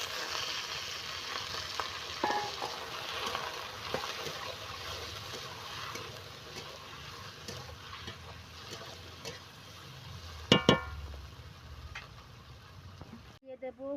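Chopped green chillies and fish oil sizzling in a frying pan for a Bengali eggplant ghonto, a steady broad hiss with brief stirring clatter and a sharper burst near the end.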